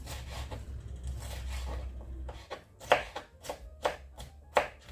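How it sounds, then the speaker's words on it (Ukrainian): Crisp knife strokes cubing bell pepper on a cutting board, slow at first, then sharper, evenly spaced chops, close and fairly quiet. "я додаю перчик, нарізаю такими ж самими кубиками"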